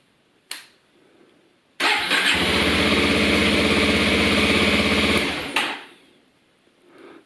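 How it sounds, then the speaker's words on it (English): Motorcycle starter motor cranking over for about four seconds, a loud close steady whirring drone that starts and stops abruptly, preceded by a sharp click. "you're going to hear the starter motor cranking over"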